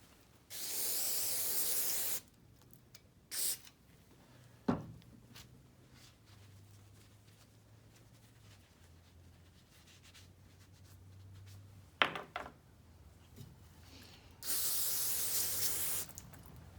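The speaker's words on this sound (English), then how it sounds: "Spray the floats off good." Two loud hissing sprays of aerosol carburetor cleaner onto carburetor floats from a John Deere Cyclone 340, one at the start and one at the end, with light clicks and handling noises in the quiet between.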